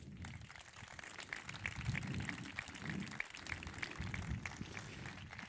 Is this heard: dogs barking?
no